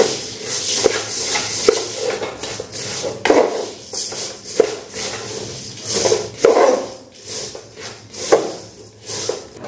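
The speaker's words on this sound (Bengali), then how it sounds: "এই মুড়ির সঙ্গে গুড়টা খুব ভালো করে মিশিয়ে নিতে হবে" Jaggery being worked into puffed rice in a pot, with brisk, uneven rustling and scraping strokes and occasional knocks against the metal, close up and with no voices.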